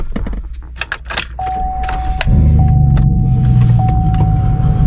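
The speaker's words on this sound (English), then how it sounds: "and then you're gonna turn on your vehicle" A Chevy Tahoe starts up: a few clicks and rattles lead into a short electronic tone, then the engine catches and settles into a loud, steady idle rumble with a faint chime over it.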